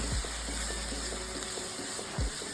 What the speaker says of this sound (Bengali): খুব ভালো করে মশলাটাকে আমি কষিয়ে নেব